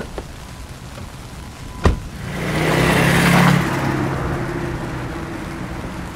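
A car pulls away outdoors after a sharp thud like a door closing, its engine swelling as it accelerates off and then fading into a lingering hiss of background noise.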